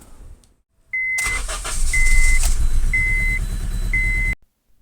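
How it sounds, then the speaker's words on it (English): A car with cylinders 3 and 4 misfiring cranks and starts, then runs roughly at idle with an uneven, loud engine note, while a chime beeps at regular intervals until the engine is switched off. "The car kind of struggles to run. Cylinders 3 and 4 misfire keep coming back."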